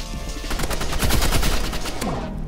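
Dense, rapid gunfire and blasts from grenade explosions in the video game Rivals pile up continuously over a couple of seconds, loud and chaotic with no talking.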